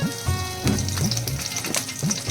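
Curry leaves crackle and sizzle in a little hot oil in a kadhai while a masala dish is cooked, a loud steady frying hiss with repeated sharp spattering bursts.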